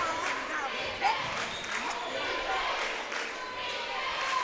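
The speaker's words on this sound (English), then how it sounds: "the crowd's loud" Loud crowd noise at a high school basketball game, a steady roar of cheering mixed with sneaker squeaks and ball bounces, with a commentator's voice layered over it.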